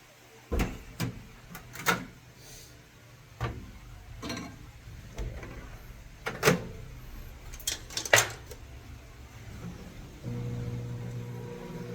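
Scattered clicks, taps and knocks of placing a dish of rice into a microwave oven and closing its small door, then a steady low hum starts near the end as the microwave switches on.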